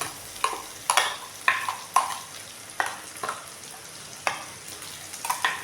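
Small amla paste sizzles in a pan with sautéed onions while a spoon stirs it. Rhythmic scraping strokes sound about once a second over a steady frying hiss, close up and with no talking.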